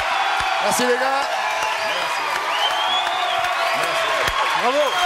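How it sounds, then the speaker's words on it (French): Audience applause for actor Roland Giraud on the French TV show Coucou c'est nous, steady crowd clapping with some cheering, continuous throughout under voices and a host speaking. "Applaudissements pour Roland Giraud, bien évidemment."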